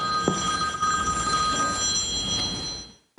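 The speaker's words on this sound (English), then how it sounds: "Make sure your phone is off." A telephone rings loudly during a village board of trustees meeting, a sustained electronic trill that continues for a few seconds before cutting off.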